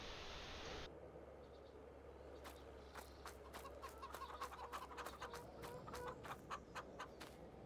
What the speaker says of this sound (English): We did have some chickens.